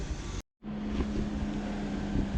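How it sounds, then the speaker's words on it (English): A BMW car runs loudly with its air conditioning on, giving a steady broadband roar with a constant low hum, briefly cut off near the start and then continuing unbroken. "the car's actually making a really loud sound right now"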